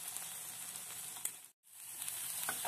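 Onion and garlic sizzle in a frying pan just used for steak pieces, a steady bright crackling hiss that drops out briefly for a moment, then resumes just as strongly.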